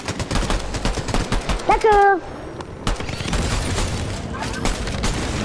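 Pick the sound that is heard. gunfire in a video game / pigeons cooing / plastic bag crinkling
gunfire in a video game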